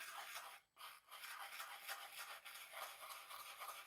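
A toothbrush loaded with watered burnt sienna acrylic paint is flicked to spatter, giving rapid close bristly scratching strokes with a couple of short pauses, alone with no talking.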